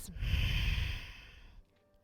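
A yoga practitioner takes one deep breath, heard as a close, strong exhale lasting about a second and a half before it fades into quiet.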